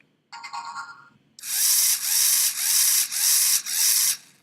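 Lego Mindstorms robot motors driving with braking off give a short high whir and then a longer, louder run of buzzing mechanical bursts with brief dips between them, close up and without talk.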